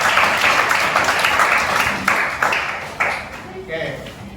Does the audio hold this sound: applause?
yes